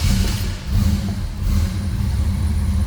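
A fuel-injected 1957 Chevrolet Bel Air four-door sedan engine runs loud and close. Its deep rumble surges in a couple of revs before settling into a steady idle.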